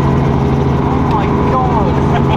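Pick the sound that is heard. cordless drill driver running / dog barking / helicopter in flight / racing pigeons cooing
helicopter in flight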